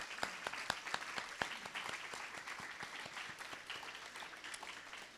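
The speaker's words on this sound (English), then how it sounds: "Let's give them a round of applause." An audience at an accessibility event applauds, with distinct individual claps standing out over steady, moderate clapping that slowly thins and quiets.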